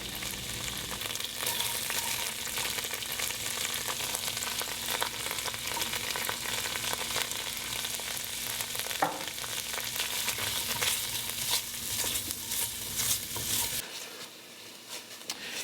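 Onions frying in a pan on medium-high heat, a dense, even crackling sizzle that runs close and steady for a long stretch, with occasional stirring taps, before cutting to near quiet at the end.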